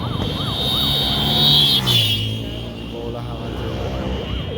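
An ambulance siren wails in a rising and falling sweep over heavy traffic and street noise, loud and close, with people talking nearby.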